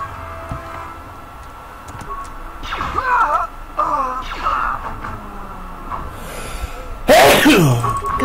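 A sudden, loud sneeze bursts out near the end, after quieter vocal sounds and game noises during a KotOR 2 play session.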